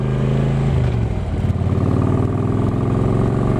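A motorcycle engine drones loudly and steadily up close, its pitch shifting slightly as it rides along.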